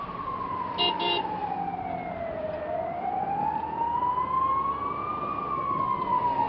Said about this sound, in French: La ville grouille d'ambulances.